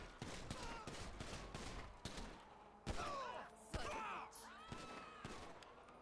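Repeated pistol shots ring out in the GTA police mod LSPDFR, a rapid burst of loud cracks followed by scattered single shots, with groans and game sounds between them.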